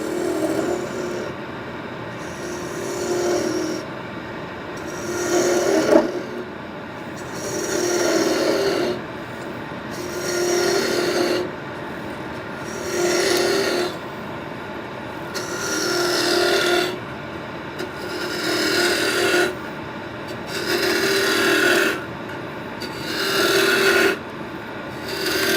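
Woodturning gouge cutting a bowl on a lathe, a rough rasping scrape that comes in repeated passes of a few seconds each with short pauses between them, steady and fairly loud, with no voice.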